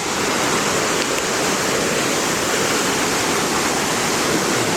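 Water pours down past an old timber log dam with a sluice gate on a backcountry river, a loud, steady, broadband rush that stays even throughout.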